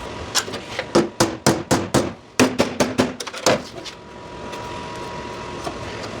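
Sharp hammer blows strike a rusted metal door shell in a quick irregular series of about a dozen loud ringing impacts, then stop, leaving a quiet workshop hum.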